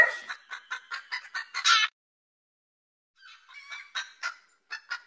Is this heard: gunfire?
no